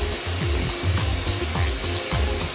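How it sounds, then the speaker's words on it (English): A worker sandblasts a pair of jeans with about a kilo of sand at 4 bars of pressure in a factory, a loud, close, roaring air-blast hiss that pulses rhythmically in repeated short sweeps. "A worker sprays a pair with about a kilo of sand at 4 bars of pressure."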